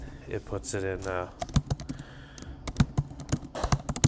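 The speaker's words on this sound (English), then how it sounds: "you just type in some text there" Keys clatter in quick irregular bursts as text is typed on a computer keyboard while a person talks over it, the close clicking loud and clear through most of the stretch.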